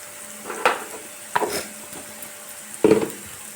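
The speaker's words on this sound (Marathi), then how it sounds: "आता आपला कांदा भाजत आलेला आहे" Onion frying in a pan for a leftover-chapati chivda: a soft, low sizzle broken by three distinct scraping stirs, the last one the loudest.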